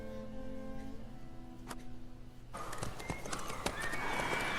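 Horse hooves clip-clop at a gallop in The Witcher 3, a steady rhythmic pounding with a brief whinny, the texture shifting partway through as the ground or scene changes, fairly quiet throughout.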